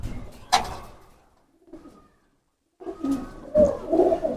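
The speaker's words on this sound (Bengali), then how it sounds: "সব থেকে পছন্দের কবুতর" Pigeons of the teddy breed coo close by in soft, low, throaty bursts separated by short silences, with a few flutters or rustles between calls.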